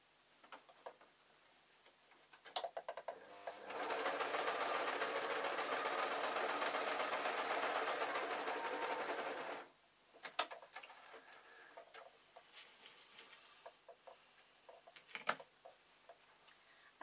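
Sewing machine stitching a fabric storage box: one continuous, fast-running mechanical whir of about six seconds, with quieter ticks and fabric handling before and after.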